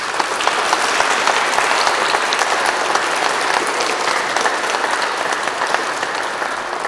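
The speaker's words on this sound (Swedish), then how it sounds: "ge er en applåd för att ni har hjälpt till det här året" Loud, dense applause fills the church as a congregation at a Mass with confirmation presentations thanks its helpers, clapping continuous and even with no voices over it.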